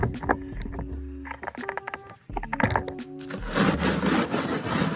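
Cheez-It crackers crushed into fine powder with a hot sauce bottle used as a rolling pin, giving repeated close knocks and grinding crunches, followed by a steadier rough scraping crush.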